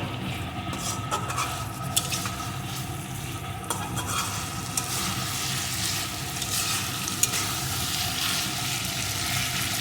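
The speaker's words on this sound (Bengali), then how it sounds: "এখন এর ভিতরে দিয়ে দেবো একটু ঘি একটু মিশিয়ে নেব" Ghee stirred into a sweet pumpkin, potato and pointed gourd curry in a pan gives continuous close sizzling, with a soft, even scrape and churn of stirring throughout.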